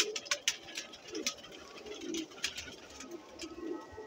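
Sialkoti pigeons coo softly in repeated low, throaty phrases, with occasional faint chirps and rustling nearby and no speech.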